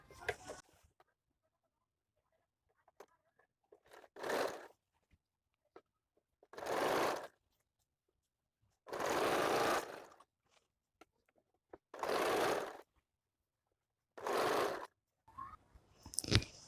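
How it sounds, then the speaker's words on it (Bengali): A sewing machine stitches a folded blouse hem in five separate runs of a second or two each. The runs come close and clear, with near silence between them. "নিচ থেকে এভাবে ফোল্ড করে আমি একটা সেলাই করে নেব মেশিনে"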